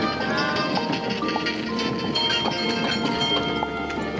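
Hooves of a horse pulling a carriage clip-clop over pavement on the way to the Temple of Zeus in Athens, steady and fairly close amid busy street noise and other background sounds.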